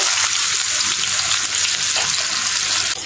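Chopped onion sizzles loudly in leftover fish-frying oil, a close, dense, steady hiss of hot oil lasting throughout.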